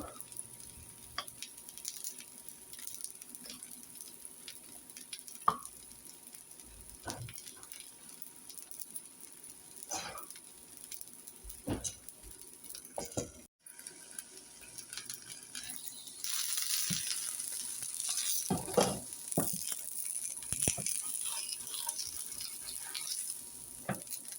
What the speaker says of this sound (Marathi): तीळ छान टाकूया